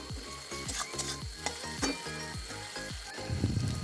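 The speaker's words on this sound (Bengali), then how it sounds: "তো ভালো করে চলুন নেড়ে চেড়ে ভেজে নেওয়া যাক।" Tomato and spice paste stirred and fried in a pan, a steady sizzle broken by regular scraping strokes of the spoon, close and moderately loud, with no talking.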